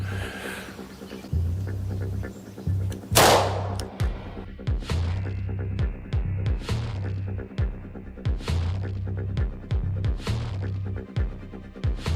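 A single sharp, loud shot from a Glock 31 pistol firing a .357 SIG round rings out a few seconds in, followed by a rhythmic, throbbing low hum with soft clicks and no talking.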